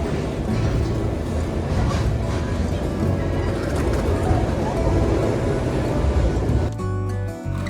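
The Argo Wilis passenger train rumbles steadily along the rails with a dense, continuous roar, shifting near the end as the noise changes character and drops slightly.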